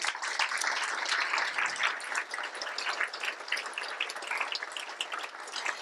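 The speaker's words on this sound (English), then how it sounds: "So please, a big round of applause for them." An indoor audience claps for the speakers at a closing session, giving a dense, continuous patter of applause throughout with no voices on top.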